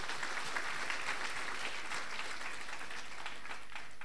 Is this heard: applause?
yes